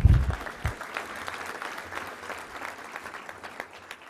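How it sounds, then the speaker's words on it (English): Audience at a touchdown club luncheon breaks into moderate applause after a close thud, the clapping fairly quiet and scattered, tapering gradually over a few seconds. "you can clap for that"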